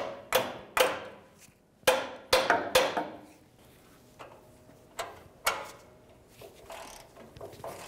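A hammer tapping a twisty socket onto an exhaust manifold stud on a 2004-2015 Nissan Titan, a series of sharp metallic taps in irregular clusters, close up, fading to lighter knocks.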